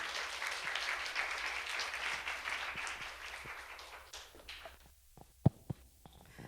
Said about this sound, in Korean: 우리 조길순 목사님 환영하며 박수로 환영하겠습니다.